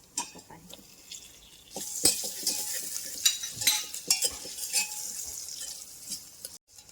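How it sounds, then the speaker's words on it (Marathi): Tomatoes and a cut green chili fry with onion in a pan for a pressure-cooker prawn biryani. A loud close sizzle rises after a quieter start, with spoon stirs and scrapes, then cuts out near the end. "टॉमॅटो घातल्यावर टॉमॅटोला पण थोडा वेळ फ्राय करून घ्या"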